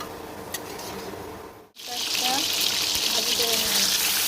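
Chopped onions drop into hot oil for egg biryani, setting off a sudden, loud, steady sizzle right after a brief silence, with some quiet talk around it.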